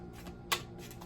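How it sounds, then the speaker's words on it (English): A quick riffle of tarot cards being shuffled, with one sharp snap in the middle, close and fairly quiet. "So I wanna shuffle this again."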